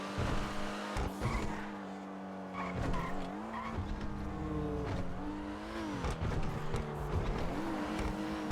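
A video game car revs with rising and falling engine tones and screeches its tyres in repeated skids, loud and close, with no talking.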